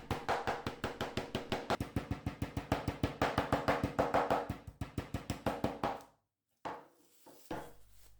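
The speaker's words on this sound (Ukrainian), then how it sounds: "Добре відбиваємо наше м'ясо." Beef steaks are pounded flat with a meat mallet on a board, producing a fast, steady run of sharp, close thuds about four per second. The pounding stops briefly near the end, then resumes with a few softer knocks.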